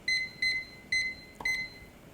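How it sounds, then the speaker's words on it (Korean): A kitchen timer beeps in short, bright electronic pulses, four in a quick irregular series, clear and alone against a faint background in a kitchen where udon is boiling. "3분을 정확하게 재기 위해 타이머를 사용하겠습니다."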